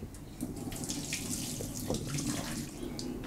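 Curdled soured milk being poured into a strainer for fresh cheese, a steady close splashing pour of liquid running and dribbling through the mesh for a few seconds, with no talk.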